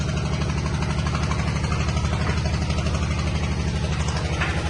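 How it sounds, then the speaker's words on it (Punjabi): A steady generator engine, switched on during a power cut, drones and rumbles throughout, loud and close, with a low throbbing idle and no pauses. "ਜਨਰੇਟਰ ਕੀਤਾ ਆਨ ਕਿਉਂਕਿ ਲਾਈਟ ਚਲੀ ਗਈ"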